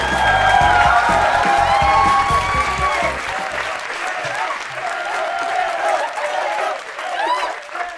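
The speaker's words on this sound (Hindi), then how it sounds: "आपकी भरपूर तालियों में फिरोज खान।" A talk-show studio audience bursts into loud applause and cheering as a guest is welcomed. Dense clapping fills the first few seconds, then it thins and fades gradually, with some voices over it.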